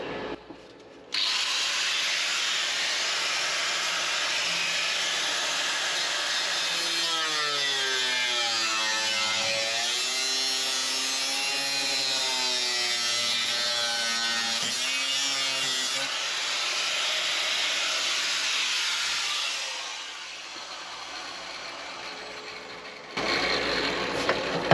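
A power tool cuts through a rusted car floor pan, a loud continuous high whine with a rising and falling grinding pitch in the middle, running steadily before it winds down near the end.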